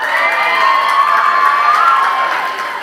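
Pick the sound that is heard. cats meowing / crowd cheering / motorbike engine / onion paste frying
crowd cheering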